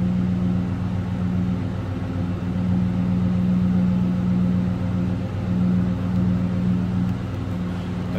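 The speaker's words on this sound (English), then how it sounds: "Nice sounding car." A 1999 Ford Mustang SVT Cobra convertible with a stock exhaust idles steadily nearby, a smooth, even low rumble with a faint whine layered on top and no talking over it.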